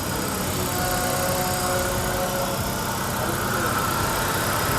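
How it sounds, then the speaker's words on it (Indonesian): A 2008 Hyundai Avega engine runs steadily after a fan belt replacement, a constant broadband mechanical drone at moderate loudness with no clear rhythm or talk. "Nah, ini dicoba digas, ngebut, udah nggak bunyi-bunyi lagi yang aneh-aneh"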